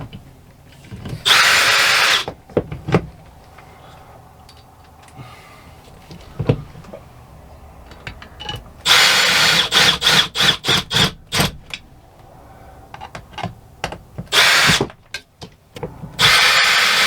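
A power drill drives big screws into a slide room motor gearbox in several bursts, each whirring up loud and close and then stopping, with ratcheting pulses and quiet handling knocks in the gaps.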